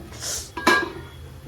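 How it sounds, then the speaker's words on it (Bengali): A metal lid lifted off a cooking pot during egg curry preparation: a single short clinking scrape followed by a brief metallic ring, close and alone in a quiet kitchen. "এবার আমি ঢাকনাটা খুলে নিলাম।"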